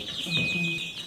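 Chickens in a poultry house in Gambia cluck and chirp softly nearby, with a steady higher-pitched peeping, and no talk over them.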